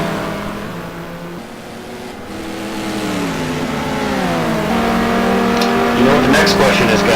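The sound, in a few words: race car engines racing down the straight, from a racing video game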